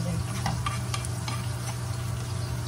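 Chopped tomatoes for an egg curry gravy sizzle and fry in a pan while a spoon stirs through them, giving a steady close crackle with a few scraping strokes and no talking.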